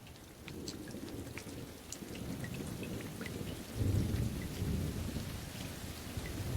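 Steady rain pattering onto a wet surface and into puddles, with scattered close drips over a dense low rumble of rainfall, slightly heavier toward the middle.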